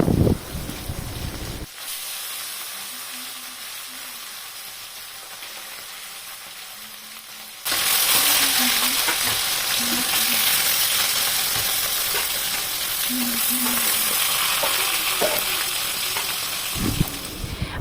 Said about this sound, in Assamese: এতিয়া মই ইয়াত মাছকেইটা দি দিম আৰু এতিয়া মাছকেইটাক মই ভালকৈ ফ্ৰাই কৰি ল'ম।